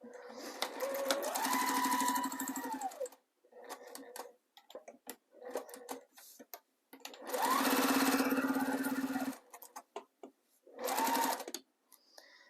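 A sewing machine stitches around a zipper pouch with a quarter-inch seam allowance, running in three loud bursts of steady motor hum and needle rattle separated by pauses with brief handling sounds.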